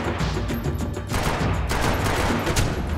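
Dense, sustained gunfire fills a Max Payne 3 shootout, a steady wall of overlapping shots and loud game action with no pauses throughout.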